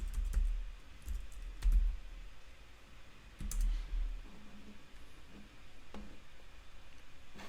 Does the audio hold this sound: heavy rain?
no